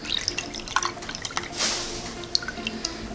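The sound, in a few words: water filling a container for cooking rice and peas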